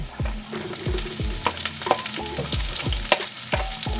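Onion hits a pan of golden-browned garlic for ginisang munggo, sizzling continuously while a spatula knocks and scrapes in a quick, regular rhythm, loud and close.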